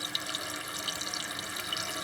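Water rushes steadily into a toilet tank as it refills after a flush through a newly replaced flush valve, a continuous close hiss with no voices.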